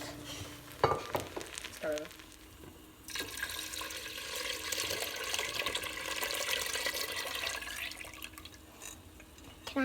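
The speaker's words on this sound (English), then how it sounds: "We're ready to add the milk." Milk pours into a pot of rice for Portuguese arroz doce, a steady liquid rush with splashing and faint sizzling that follows a few clinks and runs on at a moderate level.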